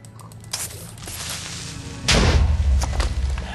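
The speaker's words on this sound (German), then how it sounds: "Warum explodiert jeder Creeper, den ich angreife?" A Minecraft Creeper blows up in the video game, a sudden loud low boom that rumbles on for over a second after a few softer thuds.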